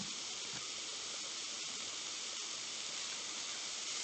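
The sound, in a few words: chicken breasts searing in a pan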